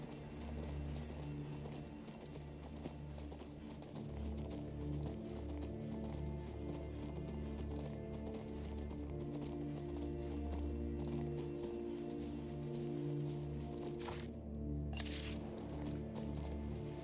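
Horse hooves clip-clop steadily through King's Bounty 2 while the rider travels, a continuous rhythmic trot over game music, with a brief sharp crack near the end.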